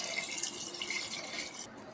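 Water pours steadily into native chicken curry in a pressure cooker, a continuous close splashing and filling stream that runs unbroken and fairly loud, with no voices over it.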